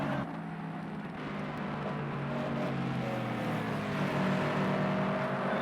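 Cosworth-engined Toyota 86 race cars lapping Brands Hatch in a racing game, a steady droning engine note holding close and loud throughout, rising slightly toward the end.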